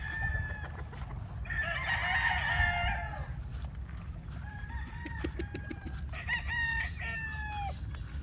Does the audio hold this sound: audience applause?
no